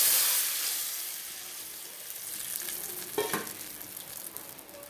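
Strained ground mustard paste poured into a hot pan, a loud sizzle bursting at first and fading to a softer bubbling hiss, with a brief splash of liquid partway through.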